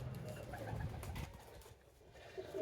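A pigeon coos low and close in short throaty bursts, followed by quieter rustling and faint background noise.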